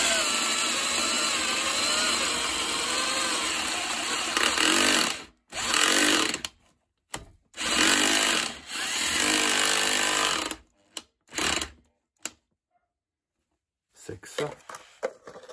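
A Parkside PBH 800 A1 rotary hammer fitted with a Hilti bit drills into concrete, hammering loudly and continuously at first, then in several short bursts with pauses, while a person talks in between.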